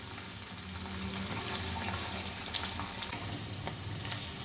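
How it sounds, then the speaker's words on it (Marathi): Paneer cubes frying in oil, browning on both sides for a paneer korma, give a steady, soft broadband sizzle with faint crackles and occasional small pops throughout, close by and alone. "पनीर छान तळत आले"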